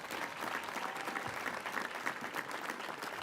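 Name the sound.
graduation audience applauding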